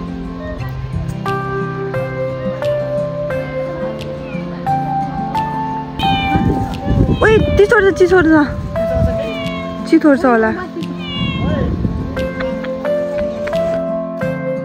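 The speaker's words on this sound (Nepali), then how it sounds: "बिरालो" A cat meows several times in drawn-out, plaintive calls on a walking trail in South Korea while people talk nearby over a background drone.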